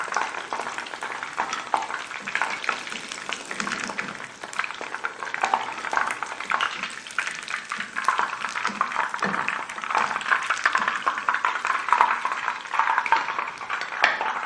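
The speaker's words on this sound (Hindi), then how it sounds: "मीडियम स्लो फ्लेम पर आपने फ्राई करना है 3 से 4 मिनट के लिए।" Sesame seed chicken pieces frying in a pan over a medium-low flame, a steady dense sizzle and crackle that carries on loudly throughout without talking.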